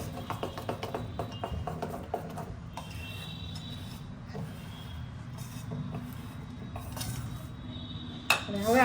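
A utensil scrapes and clinks steadily against a bowl while stirring fluffy Gujarati handvo batter, a close, continuous rasping with light metallic taps and a louder clatter near the end.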